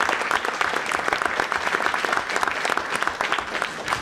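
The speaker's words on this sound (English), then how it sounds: "let's give a round of applause real quick to John Dougal" A city council candidate debate audience claps for the moderator, a short burst of dense applause at moderate volume with an uneven, pulsing texture from many hands.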